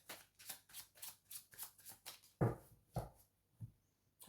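Tarot cards are cut and handled as a deck, giving a quick run of soft, close papery riffles followed by a few separate slaps and shuffles. No voice is heard over them.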